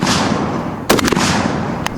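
A single sharp gunshot is fired from a squat shooting position, near and loud, followed by a quick echoing tail and a fainter shot soon after, over steady outdoor background noise.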